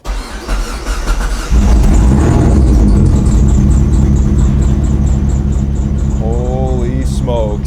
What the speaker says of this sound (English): I'm gonna try firing this thing up, and it's gonna fire and not catch fire or anything